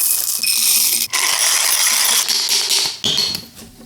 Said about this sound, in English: I'm gonna weigh out some coffee and get grinding.